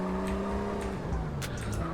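In SA:MP, a car slides through a handbrake drift, its engine holding a steady tone that drops partway while tires squeal and skid in short bursts, loud and close throughout.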